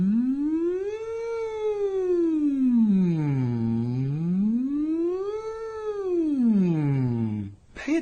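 A single voice sustains a smooth siren-like glide, sweeping slowly up and down in pitch twice without breaks as a vocal exercise, steady and close, ending abruptly.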